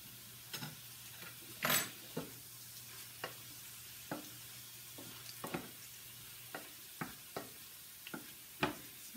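Shrimp for Filipino-style fried rice brown in a pan with a faint, steady sizzle, broken by regular light taps and clicks of a utensil against the pan.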